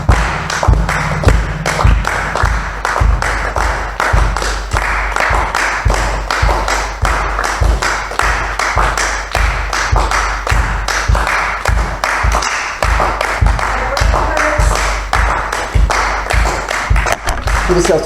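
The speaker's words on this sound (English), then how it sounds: "Give yourself a round of applause." Workshop participants clapping in a steady, even rhythm of sharp taps and thuds, loud and close, continuing without a break for about eighteen seconds.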